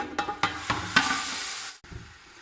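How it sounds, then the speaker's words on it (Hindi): Minced meat (keema) hits hot oil in a pan with a few sharp splatters, then a loud, steady sizzle that holds for over a second before cutting off abruptly, with a quieter sizzle resuming afterward. "इसे हमने थोड़ा गर्म कर लिया है। अब हम कीमे को इसके अंदर डाल देंगे।"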